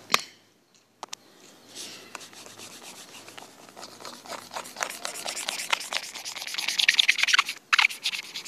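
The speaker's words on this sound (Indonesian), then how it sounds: "Saya hapus ya." A whiteboard is wiped with an eraser in a classroom lesson: a few sharp knocks, then repeated rubbing strokes that grow louder and quicker, a close, dry, scratchy swishing with no speech over it.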